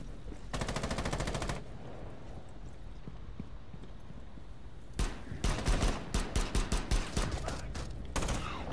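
Rapid automatic gunfire from a Rainbow Six match, loud close bursts at the start and again later with a stretch of quieter background sounds between them.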